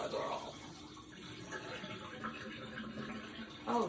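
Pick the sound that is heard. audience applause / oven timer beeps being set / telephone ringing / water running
water running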